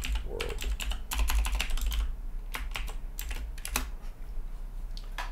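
Typing a PowerShell hello world command on a computer keyboard, rapid clustered key clicks in quick bursts with short pauses, close and clear over a low steady hum, no talk.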